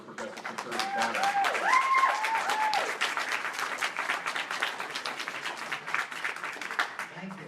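An audience at a political townhall in Grande Prairie claps in sustained, dense applause that peaks early and then slowly thins, with a voice briefly audible near the start.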